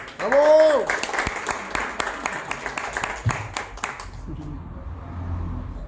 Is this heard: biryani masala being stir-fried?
no